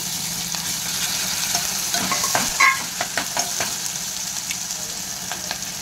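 Sliced onion and ginger-garlic paste sizzling in hot oil in a pan, a steady close fry with scattered crackles and a few stirring scrapes, no talking.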